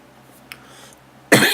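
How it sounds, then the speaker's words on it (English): A single sharp cough bursts out near the end, loud and close, after a brief quieter throat sound. "I don't know why I'm getting coughing like this."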